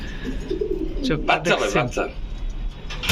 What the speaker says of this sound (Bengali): দর্শক কবুতরের নাম হচ্ছে কমুনা